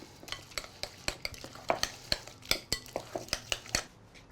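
A spoon stirs yogurt into overnight oats in a bowl, giving a steady run of close, sharp scraping taps at a quick even rhythm over a soft wet background, with no talking.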